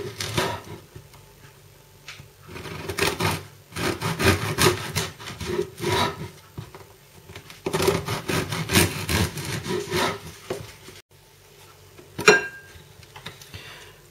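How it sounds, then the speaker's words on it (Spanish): A knife saws through toasted baguette to cut slices, making rough, rasping back-and-forth strokes up close in several bursts with short pauses, ending in a sharper crunch. "Vamos a preparar unas rodajas de baguette tostadas para poner encima los rollitos"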